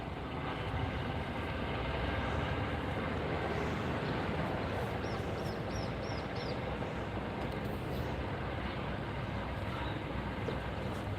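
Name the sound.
helicopter getting ready to take off from airport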